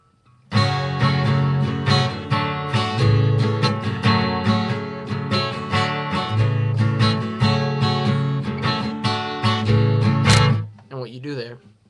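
Guitar chords of a song ring out in a continuous strummed progression, full and sustained with rich harmonics, ending with a brief flourish and fade near the close.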